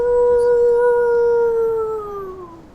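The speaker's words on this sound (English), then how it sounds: "The howl of a wolf." A lone wolf howls in a snowstorm, one long sustained tonal howl that holds steady and then slides downward as it fades, sounding distant against a faint windy background.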